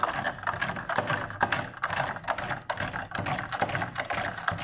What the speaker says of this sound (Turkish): şimdi bir kaşık yardımıyla karıştırıyorum